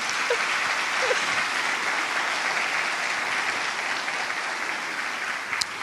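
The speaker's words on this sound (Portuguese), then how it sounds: "Você pode aplaudir o Senhor por causa disso?" A church congregation claps continuously in sustained, even applause filling the room for several seconds, with no talking over it.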